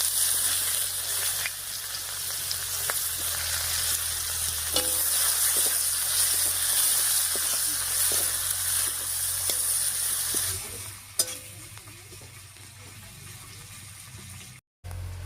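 Chopped onion sizzling and frying in the oil left from frying snakehead fish, with dried red chillies and whole cumin, a steady close hiss broken by occasional stirring clinks and scrapes.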